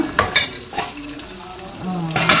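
Garlic and onions frying in oil with fenugreek for a fish curry, giving a soft sizzle with a couple of brief stirring clatters near the start and end.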